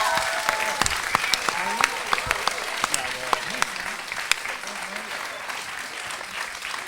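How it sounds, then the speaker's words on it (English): Studio audience at Maida Vale Studios applauds after a performance, a dense, steady wash of clapping with sharp individual claps standing out, lasting throughout at moderate level with a faint voice underneath. "I'm sure you want to just one more round of applause just for Tom and Johnny"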